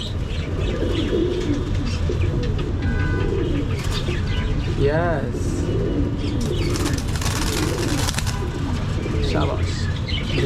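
Pigeons cooing in a loft or coop, soft repeated throaty coos close by among general bird chatter, with a few wing flaps and background noise throughout.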